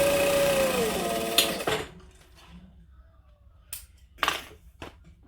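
A sewing machine runs a steady top stitch through vinyl at a 3 3/4 stitch length, a loud continuous mechanical whir that stops abruptly and is followed by a few sharp clicks and knocks.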